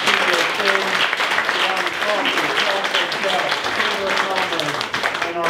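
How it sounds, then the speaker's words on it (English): Audience applause after a speaker at a business breakfast event at a center for the arts, dense sustained clapping filling the room steadily with some voices mixed in. "One more round of applause for our speaker"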